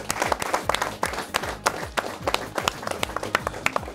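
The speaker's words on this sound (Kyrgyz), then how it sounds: "Командага бир ийгиликтер каалап кол чаап коелу." An audience claps together to wish a team luck at a quiz show, a dense run of applause with sharp hand claps throughout, fairly close and steady.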